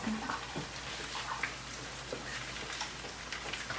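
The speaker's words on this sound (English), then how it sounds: "Let me get my hands rinsed" A tap runs while hands are rinsed under it, giving a continuous soft hiss of flowing water with faint splashes, moderately close and fairly quiet.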